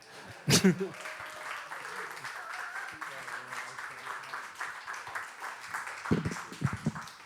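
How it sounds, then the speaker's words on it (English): Applause from a small audience after a talk, a sharp clap burst near the start, then a sparse patter of clapping with voices talking over it and a few louder claps near the end. "You can clap now."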